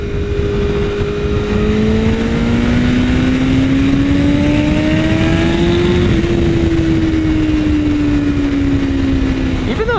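A BMW S1000RR sport bike fitted with a slip-on exhaust revs hard nearby, its engine tone climbing steadily and then holding high, loud and continuous over a wash of wind noise.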